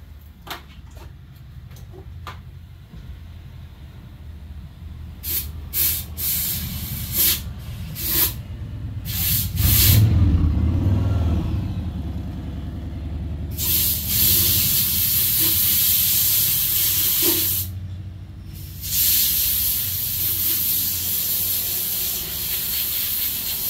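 Compressed air blasts through Yamaha XT225 motorcycle oil filter parts in several hissing bursts: short puffs first, then longer, louder sustained blows close by.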